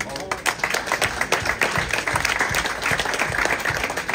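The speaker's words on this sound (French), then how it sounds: "On applaudit le lauréat de cette 5e édition." An audience applauds the winner of a breakfast and brunch contest final, dense sustained clapping filling the room with a voice speaking over it.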